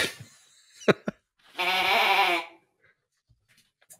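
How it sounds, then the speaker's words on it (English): A novelty sheep call noisemaker gives a single nasal, wavering bleat lasting about a second, preceded by a few sharp knocks and handling clicks in an otherwise quiet room. "he also made this one sheep call"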